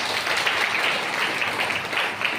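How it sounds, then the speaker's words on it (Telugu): An audience claps at a Telugu Christian church sermon, a dense, steady wash of many hands that continues evenly from start to finish. "చప్పట్లు కొట్టండి మరి."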